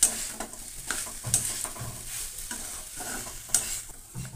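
Red spinach is stirred and fried in a pan, with a soft continuous sizzle under repeated scraping strokes of a spoon at uneven intervals, close and clear with no voices.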